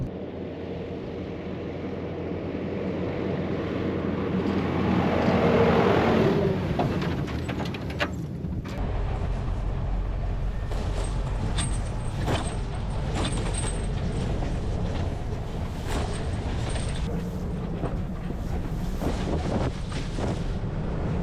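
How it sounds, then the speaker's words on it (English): A 4x4 vehicle drives along a remote outback dirt track with a continuous low engine drone and road rumble. Wind buffets the microphone, strongest early on, and small knocks and rattles come from the rough surface. "we'll just keep driving down this track"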